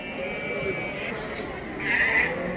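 Sheep and lambs at a busy livestock bazaar give a few bleats over a constant crowd murmur, with one louder, nearer bleat rising toward the end.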